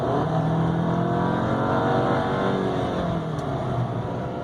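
A VW Golf SE accelerates hard, its engine note rising in a loud, sustained drone that fills the whole stretch without any voices.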